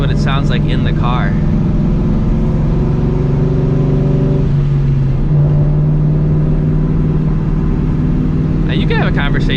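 New Edge Ford Mustang GT exhaust heard from inside the cabin, a loud, deep, steady engine drone with a pitch shift partway through, while people talk briefly at the start and end.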